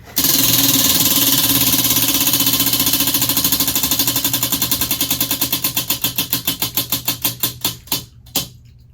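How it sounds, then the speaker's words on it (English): A prize wheel spins with rapid clicking that starts as a dense rattle and gradually slows into distinct ticks before stopping, loud and close with no talking. "we'll wrap up things today with a final wheel spin"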